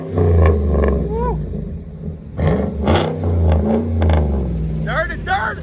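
Chevy Silverado 6.2L V8 with straight pipes revving in repeated loud bursts that rise and fall, close by, with people talking and reacting over the engine.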